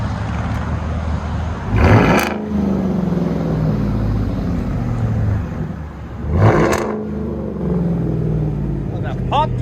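A straight-piped 2017 GMC Sierra Z71 with a 5.3L V8 idles with a steady deep rumble close by, swelling twice in short throttle blips before settling back to a loud, constant burble.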